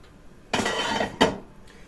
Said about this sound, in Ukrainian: Повертаємо на пліту наш бульйончик, відправляємо в нього грибочки